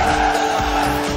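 A BMW drifting in Forza Horizon 4, with a steady high tire squeal over a droning engine, loud and continuous for a brief moment.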